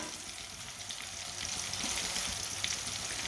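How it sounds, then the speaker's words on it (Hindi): Turmeric, crushed red chili, whole cumin and whole coriander seeds sizzle steadily in a pan over a low flame, with a close, continuous frying crackle. "मसालों को 1 मिनट के लिए पका लेंगे"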